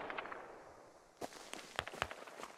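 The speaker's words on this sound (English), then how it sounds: "Mortar's coming in northeast of upper" Incoming mortar rounds in the Squad video game land as a quick series of sharp, cracking impacts after a quieter opening, several distinct bangs in irregular succession at moderate distance, with no talking.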